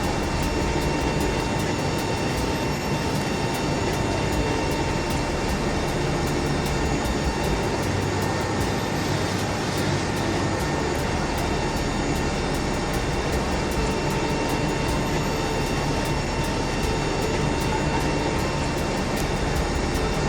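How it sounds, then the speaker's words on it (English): A steady, loud whine and hum from an airliner's APU as its engines shut down in Microsoft Flight Simulator 2020 at Amsterdam Schiphol, an unbroken drone with faint tonal layers held for the whole stretch. "So I've just put the APU on so that I can shut the engines down."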